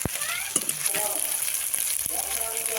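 A soft, steady sizzle of ginger garlic paste frying in oil with onions, with a few light clinks of a utensil against the pan.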